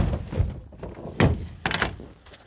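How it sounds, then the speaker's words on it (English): An air compressor shed door is swung shut to weatherproof the unit, giving a couple of mid-loud knocking thunks with a rattling latch, close by and without talk. "And then you shut the door as to weatherproof it."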